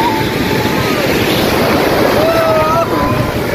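Sea waves breaking on the beach at Cox's Bazar, a loud continuous roar of surf mixed with heavy wind buffeting close to the microphone, with no pause across the whole stretch.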